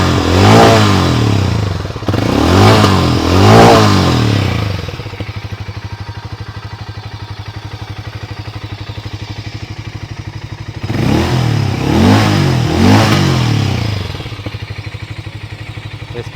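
Hero Mavrick 440 or Harley-Davidson X440 motorcycle revved hard in two loud bursts of throttle, settling into a steady low idle between them, then revving again twice near the end.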